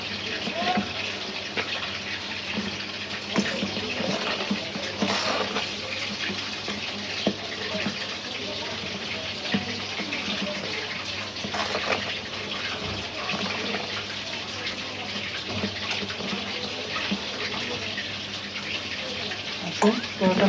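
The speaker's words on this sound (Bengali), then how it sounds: "আমি একটু গরম পানি দিই হালকা" Warm water poured into paratha dough during kneading, a steady, continuous watery rush that runs for about twenty seconds at an even, moderate level.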